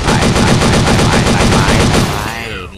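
Sustained heavy machine gun fire in the shooting game Global Strike, a loud rapid unbroken burst of shots for about two seconds that then tails off into a fading echo.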